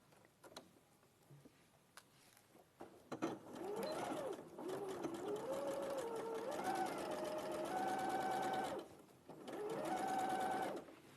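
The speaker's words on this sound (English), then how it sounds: "So I'll sew that one all the way around with 1 centimetre." A home sewing machine run by foot pedal stitches fabric all the way around a 1 cm seam, its motor whirring in steady bursts with a pause between runs, close and clear, after a few quiet clicks at the start.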